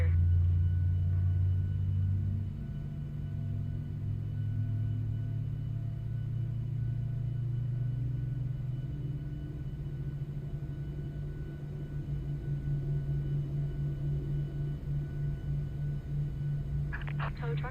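Engines of a PMDG Boeing 737-900 airliner in Microsoft Flight Simulator spool up with a low, steady rumble and a rising whine, sustained throughout with faint cockpit clicks.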